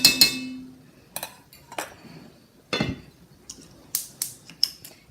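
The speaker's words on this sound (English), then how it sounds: "Stirring my barbecue sauce." A spoon clinks against a pot while barbecue sauce is stirred, sharp metallic taps coming in scattered, uneven bursts close by, with quiet gaps between them.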